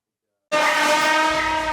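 A New York City subway train roars in abruptly after a moment of silence, a loud sustained screech and rumble of wheels on rails with a tonal whine, close and steady to the end.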